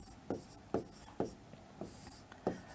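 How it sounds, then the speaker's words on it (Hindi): Short, scratchy strokes of writing on a board during a Hindi geography lecture on the atmosphere: five or six separate bursts spaced about half a second apart, close and fairly quiet. "पहला पॉइंट यहां पर लिख लें"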